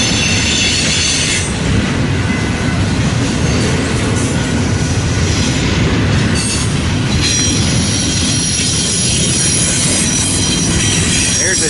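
A long freight train rolls past close by in Fremont, Nebraska, a loud steady roar of wheels and railcars with high metallic squealing throughout.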